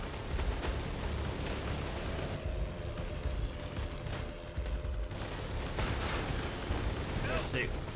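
Dense, continuous gunfire from undead-battle combat in the real-time strategy game Age of Undead, shots piling into an unbroken crackling barrage with a brief thinner stretch midway, mixed under a voice.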